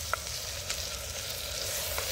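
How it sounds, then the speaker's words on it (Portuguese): Seasoning frying in a pan over a campfire at a forest campsite, a steady soft sizzle throughout with a few faint pops and crackles, close and alone with no voices. "Vamos dar uma olhadinha como é que tá ficando essa tempera que já estão fritando bem"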